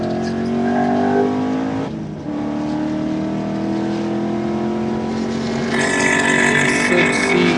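A 2007 Lotus Exige race car passes on the Road America track, its engine a loud sustained drone that shifts pitch and swells as it goes by, with other track noise mixed in.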